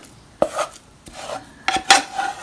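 A spoon clinks against a plastic Tupperware container while scooping nut butter and honey sauce, giving a few soft scrapes and light knocks spread over a couple of seconds.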